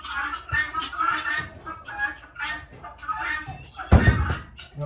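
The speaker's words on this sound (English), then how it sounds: "she's closing the back door to keep the goat away" A back door thuds shut near the end, a single solid low bump, heard on a farm field trip while people talk throughout.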